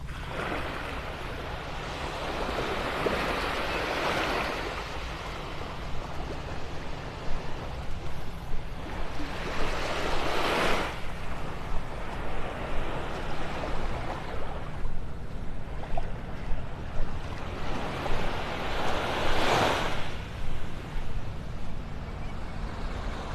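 Ocean waves break on a quiet beach at first light, each surge rising into a broad, rushing wash about every five to eight seconds over a steady low roar of surf, with no voices.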